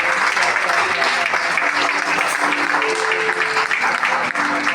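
A church congregation claps and cheers loudly and steadily throughout, a dense, continuous applause from a worship crowd with no break.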